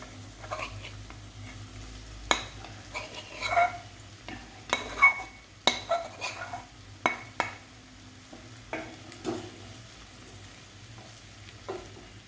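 Sago pearls being tipped into a pan of cooked potatoes for sabudana khichdi, giving a run of irregular scraping, stirring and clinking knocks against the pan, moderately loud, with quieter gaps and a low steady hum beneath.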